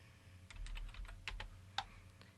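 Someone types on a computer keyboard in a quiet room, producing a short, quick run of soft, close clicks with one sharper keystroke near the end.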